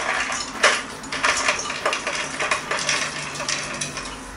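Cashew nuts dropping into a Ninja blender jar, a run of light, bright clicks and rattles spread across several seconds, close by and fairly quiet, with no talking.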